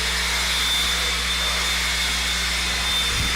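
A leaf blower clears the dirt track at an off-road RC raceway, giving a loud, steady, continuous whooshing roar with an engine hum that stays constant throughout, close by and with no talk over it.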